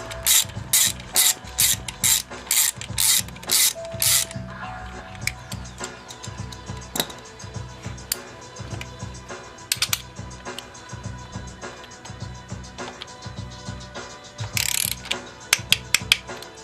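A ratchet clicks in fast repeated bursts while a bolt is tightened back up on a BMW F650GS motorcycle, loud at first, then quieter intermittent clicks and small mechanical handling noises.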